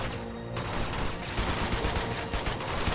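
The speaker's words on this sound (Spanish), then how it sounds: "están cagando a tiros a todo el pueblo" Heavy gunfire from the Uncharted 2 video game, a village under attack, with dense overlapping bursts and shots filling the whole stretch at a steady, loud level and no talking.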